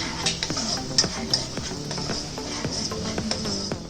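Onion paste for an egg curry frying and being stirred in a pan, with a steady close sizzle under repeated scraping strokes of a metal spoon against the pan, no talking.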